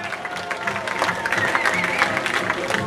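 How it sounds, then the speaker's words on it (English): A crowd at a downtown Perrysburg hot dog eating contest claps and cheers for a competitor, a steady patter of applause with scattered whoops at moderate distance. "First Friday crowd, please put your hands together for Scott Buns and Roses"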